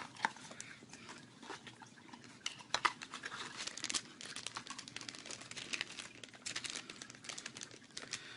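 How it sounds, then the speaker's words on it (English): A Disney mystery pin box is opened close by and quietly, with continuous soft crinkling of cardboard and plastic packaging and scattered sharper tearing and rustling clicks. "Let's open up our second box here."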